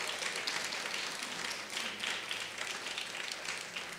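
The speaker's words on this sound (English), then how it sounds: "Can we give them a round of applause" An audience at a Brooklyn Pride celebration with the Borough President applauds, a faint, even wash of many hands clapping that carries on steadily for several seconds with no voices over it.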